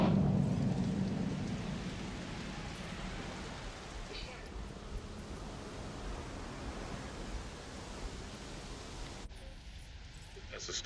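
Steady broadband rain hiss with a low rumbling thunder swell at the start, fading slightly over time, from a storm sweeping across a dinosaur park in Jurassic World Evolution; the noise runs continuously, moderately loud, without speech.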